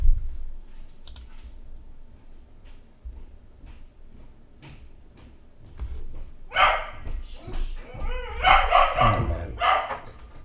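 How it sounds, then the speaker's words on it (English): Dog barking indoors in a home office, a burst of several sharp barks near the end after a stretch of keyboard clicking and typing, with a person speaking nearby. "bloody dog's barking now"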